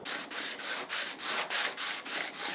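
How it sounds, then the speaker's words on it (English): A card scraper is pushed back and forth over a sharpening stone, giving a rhythmic rasping scrape of about nine even strokes. The strokes are close and fairly loud, with no talking. "I'm putting downward pressure on the scraper with my fingers, kind of in that direction, whilst clamping it to the wood."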